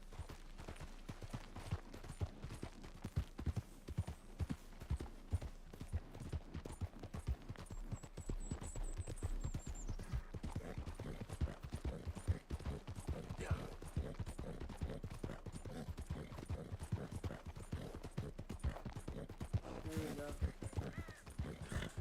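Horse hooves gallop steadily in Red Dead Redemption 2, a fast rhythmic clip-clop running throughout, fairly close, with scattered game sounds and some talk over it.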